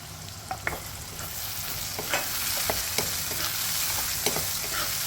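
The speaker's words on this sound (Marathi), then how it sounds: "आपले कांदे इथे थोडे परतून झालेले आहेत त्यामध्ये आता मी हे टोमॅटो पण टाकते आहे" Onions and tomatoes sautéing in a pan for a peanut-flour dish, with a constant close sizzle and sharp intermittent clicks of a spoon scraping and tapping the pan, no voices.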